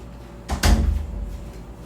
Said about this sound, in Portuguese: tive que fechar a porta ali que eu deixei aberta